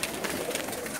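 Breeder pigeons cooing in a crowded loft at night, a short soft burst of throaty coos close by, with no talk.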